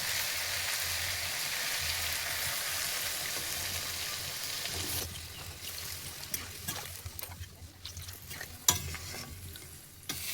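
Potato and pointed gourd curry sizzles steadily in a hot pan; about halfway through the fry softens and water trickles in, followed by scattered stirring scrapes and a sharp clink.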